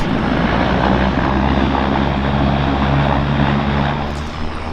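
Planes at Vancouver Harbour Airport drone loudly and steadily with close propeller engine noise that holds constant before easing slightly near the end.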